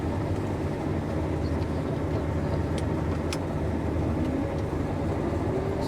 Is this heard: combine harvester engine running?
yes